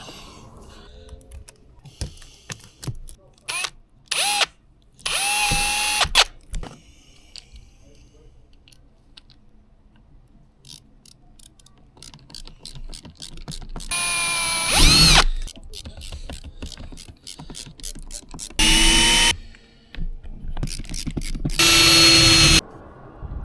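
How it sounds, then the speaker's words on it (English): A power drill whines in several short bursts, drilling pilot holes through a Mercedes Sprinter van roof, with pauses filled by clicking and handling noises between runs. "we drill the pilot holes through the roof"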